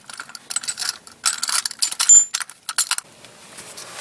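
Metal exhaust pipe butt-joint band clamp being taken apart, giving a run of light metallic clinks, ratcheting clicks and rattles in short bursts, close and fairly clear, with one brief bright ring near the middle, then trailing into quiet handling.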